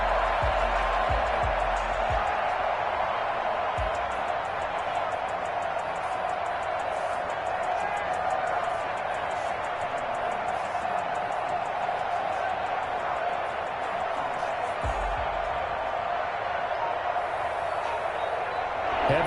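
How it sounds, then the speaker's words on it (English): Steady roar of a stadium crowd in the Madden football video game, a dense, constant wash of noise with no breaks, rising slightly in places. "That just means this crowd's going to get even louder."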